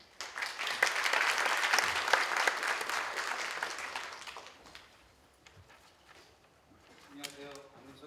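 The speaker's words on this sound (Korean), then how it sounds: "큰 박수로 환영해 주십시오." Audience applause welcoming a speaker to the stage at a technology forum, a dense wash of clapping that swells and holds for several seconds, then thins out and fades.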